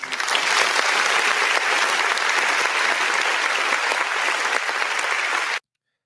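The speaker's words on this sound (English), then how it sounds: "So let's give them all a round of applause." A room full of people gives a round of applause, a dense, loud burst of clapping that holds steady for several seconds before cutting off abruptly.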